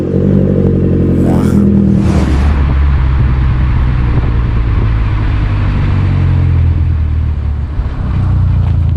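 A Ferrari engine fires up and revs, a loud rising roar settling into a throaty, rumbling idle that runs steadily close by, with no talking.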